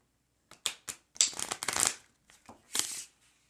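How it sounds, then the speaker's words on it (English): Playing cards are shuffled in several quick bursts of riffling and flicking, close up, with short pauses between them. "then I give it a quick shuffle, like this"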